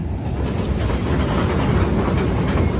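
A train passes close by with a loud, dense rumble. Faint clickety-clack rattles run through the steady roar.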